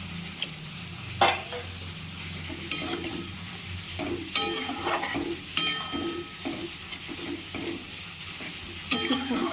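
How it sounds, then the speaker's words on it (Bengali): Okra and prawn curry cooks in a pan after water goes in, with a steady low sizzle broken by sharp spoon-on-pan clatters and scraping stirs, close and alone with no talk. "এরপরে এতে জল দিয়ে দিচ্ছি"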